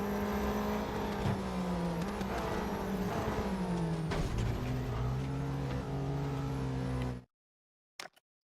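Race car engine in the Real Racing 3 mobile racing game, a loud steady drone with shifting pitch as the car accelerates and shifts gears for about seven seconds, then abrupt silence broken by a brief faint blip.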